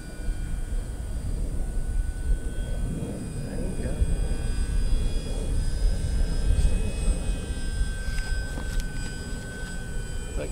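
An Arrows RC Bigfoot model airplane in flight hums with a steady, droning engine, held at moderate distance for about ten seconds, with people talking over it.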